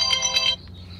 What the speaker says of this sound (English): my other phone is ringing